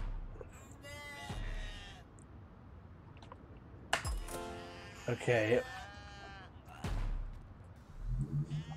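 Sheep bleating in a video game, several short, wavering bleats scattered among clicks and electric zaps, with someone talking in between.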